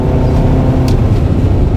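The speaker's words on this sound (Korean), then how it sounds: "지금 참고로 65km로 과속방지턱을 넘었습니다" A Kia Sorento 2.5T front-wheel-drive SUV driving over a speed bump at 65 km/h, heard from inside as a loud, steady low road and engine rumble with a brief thump partway through.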